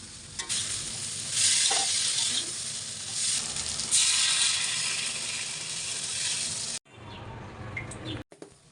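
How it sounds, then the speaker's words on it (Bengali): Green plantain curry with tomato sizzles loudly in a hot pan, a dense, continuous frying hiss with stirring scrapes, cutting off abruptly near the end before a quieter, crackling tail. "আমি এর উপর একটা টমেটো দিয়ে দিলাম, ওরা কিন্তু টমেটোও দেয়, সেজন্য আমিও দিলাম। আর এটাকে খুব ভালো করে কষিয়ে নিতে হবে।"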